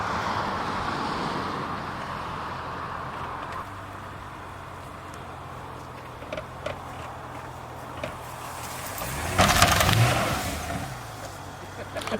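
Truck engine idling and then revving hard while a chain hitched to its back drags at a huge tree, with wheels spinning, a rough low drone that swells near the end under occasional talk.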